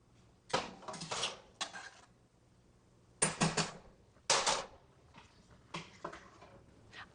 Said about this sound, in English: now I'm adding the meatballs into the sauce